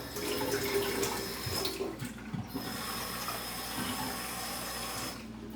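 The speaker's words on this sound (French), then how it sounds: "on va aller mettre plein d'eau là-dedans" Tap water pours into a pot to be filled for heating potatoes in a home kitchen. It makes a continuous rushing splash that shifts in tone as the pot fills, with no talking.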